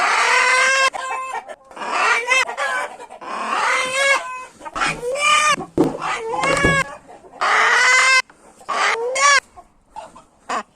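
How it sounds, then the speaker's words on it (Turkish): A rooster crows loudly and repeatedly, with clucking between the crows, close by and with no talking. "Bak horoz bak."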